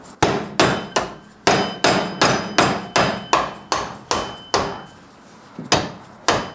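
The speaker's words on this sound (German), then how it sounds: "Mit dem Hammer schlägt Böpple das Mundrohr durch einen Aluminiumring." A hammer strikes again and again to drive a brass trumpet mouthpipe through an aluminium ring in an instrument workshop, loud sharp metallic blows in a quick steady rhythm with brief pauses, close and without talk.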